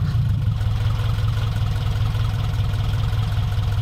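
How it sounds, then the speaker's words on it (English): A 2000 Subaru Forester engine idles with a rough, rapid low-pitched chugging and a raspy, puttering exhaust from a massive exhaust leak, steady throughout with no voices. "this thing does have a massive exhaust leak."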